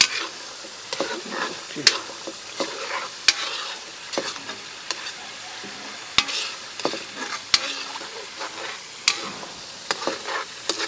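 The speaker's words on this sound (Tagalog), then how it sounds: "Ito ang sinasabi na naglalatik." Coconut milk fries down into latik in a pan, a soft continuous sizzle broken by repeated sharp scrapes and knocks of a spoon stirring at close range, with a brief spoken word.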